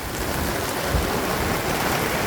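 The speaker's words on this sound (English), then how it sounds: "It's got quite rainy now." Heavy rain falls on a longtail boat crossing rough sea off Koh Phi Phi, a loud, dense, continuous hiss of drops and spray with no pauses.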